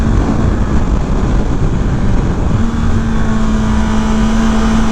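A Honda E-Clutch motorcycle engine drones loud and close while riding, holding a steady, even roar with a constant underlying tone as the bike engine-brakes.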